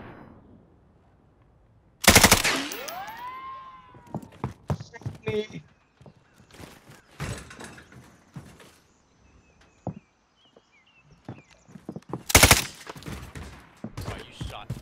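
Gunfire in Call of Duty: Warzone, with a loud burst near the start, scattered shots and clattering game effects throughout, and another sharp blast near the end.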